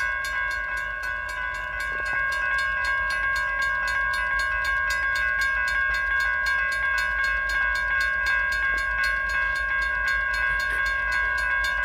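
Norfolk Southern freight train horn at the Emmons Boulevard crossing in Wyandotte, Michigan, a steady chord-like blast held for the whole stretch, moderately loud with a slightly distant tone.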